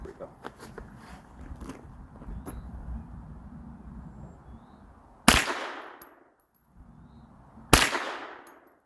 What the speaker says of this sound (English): one pull of the trigger backward and it fires, and then one release of the trigger fires